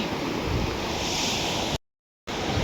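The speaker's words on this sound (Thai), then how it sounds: "น้ำทะเล" Sea waves roll onto a beach in a continuous loud wash of surf mixed with wind noise on the microphone, briefly cut to silence near the end before the surf resumes.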